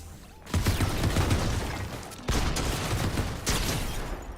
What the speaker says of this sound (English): the shotgun shots always look really weird to me